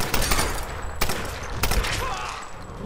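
Submachine gun fire in the Tomb Raider video game, loud sharp bursts of rapid shots with a few distinct cracks standing out, close and punchy over a short stretch.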